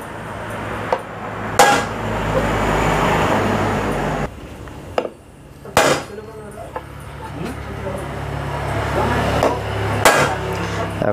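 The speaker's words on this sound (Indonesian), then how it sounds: "ditumpukan ke bagian besi lalu kita ketrok." Several sharp hammer strikes on rivets in a metal clutch housing ring out at uneven intervals against steady workshop and traffic noise, loud and nearby.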